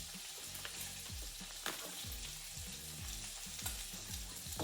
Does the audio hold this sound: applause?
no